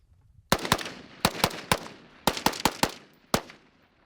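A SIG Sauer MCX Regulator ranch rifle fitted with a muzzle brake fires ten sharp, loud shots from a bipod in an uneven, quick cadence, some paired closely, each with a short ringing decay and no voices.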